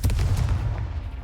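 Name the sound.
Confringo blasting spell from the video game Hogwarts Legacy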